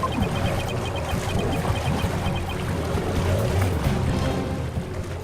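Rushing water from the video game Phoenix Wright: Ace Attorney - Spirit of Justice, a loud, steady roaring wash that fills the whole stretch without pause and with no voices over it.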